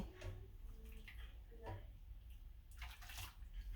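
A bleached lace wig is lowered into water, giving faint splashing and sloshing with soft gurgles in short bursts, quiet and close.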